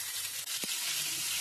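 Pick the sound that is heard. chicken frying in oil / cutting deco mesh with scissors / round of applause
chicken frying in oil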